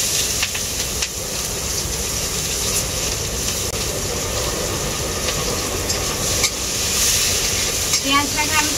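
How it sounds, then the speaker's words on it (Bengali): Chopped onion goes into hot mustard oil left from frying tilapia, hissing and sizzling steadily with occasional stirring scrapes, close and continuous. "ওই তেলের মধ্যেই দিয়ে দেবো কেটে রাখা পেঁয়াজ।"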